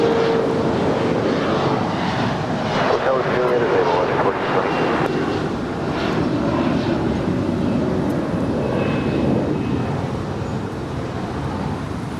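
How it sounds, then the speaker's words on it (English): An American Airlines Boeing 737-800 departs runway 25 right at Los Angeles International Airport, a loud continuous jet roar that holds steady and then slowly eases, with broadband rumble throughout. "Next departure on 25 right is American Airlines Flight 669 heading to Chicago O'Hare. It's a"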